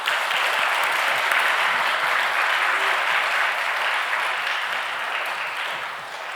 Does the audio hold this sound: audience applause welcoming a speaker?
yes